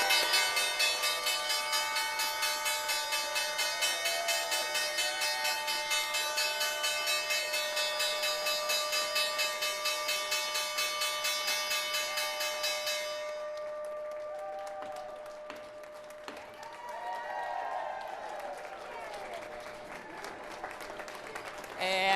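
A ringing stock exchange closing bell on Wall Street sounds over sustained loud applause and crowd cheering for about thirteen seconds, then the bell stops and scattered clapping and chatter continue at a lower level.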